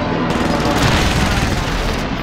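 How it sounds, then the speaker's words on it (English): A precision airstrike pounds a video game match in Fortune's Keep, dense overlapping blasts and rapid gunfire roaring loud and continuous, close and saturated throughout. "Precision airstrike incoming."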